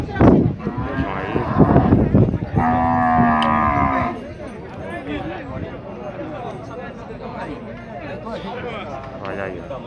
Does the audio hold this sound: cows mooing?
yes